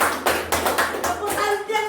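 Children in a classroom clap a rhythmic hand-clapping game, a run of sharp claps in a steady pattern with a voice chanting over the later part.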